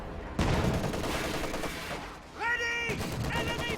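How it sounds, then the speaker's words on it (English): Katyusha rocket salvos in the strategy game Company of Heroes 2 sound as a dense rumbling barrage of launches and distant impacts, with whistling, warbling rocket tones rising near the end among battlefield noise. "Oh, Katyusha fire going in, and it hits absolutely nothing."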